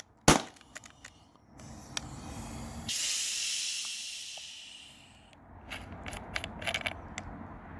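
Air hissing steadily from a leak down the barrel of a Beeman BP50 air pistol, preceded by sharp mechanical clicks and followed by small metallic rattles.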